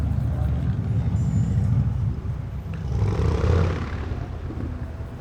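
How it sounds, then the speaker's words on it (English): Outdoor traffic rumble at a plein air painting spot, a steady low drone of passing vehicles with a train and motorcycles swelling and receding in the distance, continuous throughout. "Now you are going to hear some train traffic and some motorcycles."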